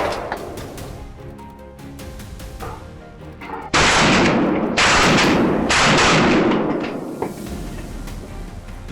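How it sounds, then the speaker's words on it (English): Volley of gunfire during a farmers' and hunters' wild boar ambush, loud sustained bursts erupting abruptly after a quieter stretch and continuing in heavy blasts for several seconds. "At my signal, gunfire erupted like thunder"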